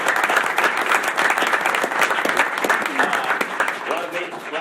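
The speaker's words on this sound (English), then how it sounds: "I'm going to give him a round of applause." A school board meeting audience gives a dense, steady round of applause for a member of the coaching staff, loud and continuous from start to finish, with some voices mixed in.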